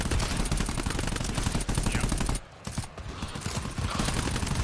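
Rapid automatic gunfire in the GTFO video game rattles densely and continuously. It breaks off briefly partway through, then resumes as a loud, close, sustained fusillade.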